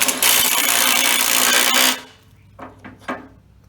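A fake Milwaukee impact wrench tightens a nut held in a vise, giving a loud, dense hammering buzz for about two seconds that stops abruptly, followed by a few faint clicks and knocks.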